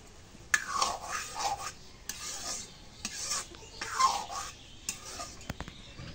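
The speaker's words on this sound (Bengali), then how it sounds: "এখন তরকারিটা একটু নাড়া দিই।" A spoon scrapes and stirs curry in a cooking pot, soft rasping strokes repeating in an uneven rhythm about once a second, close and fairly quiet.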